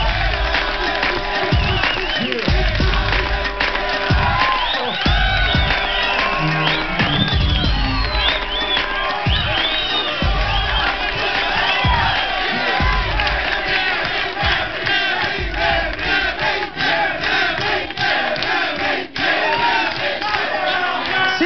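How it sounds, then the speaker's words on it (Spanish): A studio audience at a talk show roars with cheering, whoops and shouts over continuous applause as a contestant named Cintia is called forward, loud and unbroken throughout. "Un aplauso para Cintia"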